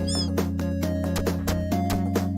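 A cat gives one brief, high meow at the start, heard over steady, looping music from the Mochi Mochi game that continues throughout.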